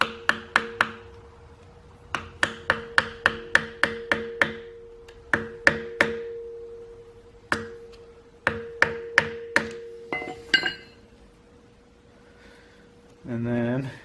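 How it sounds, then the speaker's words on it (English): Hammer pounding the tab of a lock washer off an axle nut on a Toyota solid axle, giving a series of sharp, ringing metallic strikes, some in quick clusters and others spaced apart, then a few scrapes. "you'll just pound that tab off of the nut"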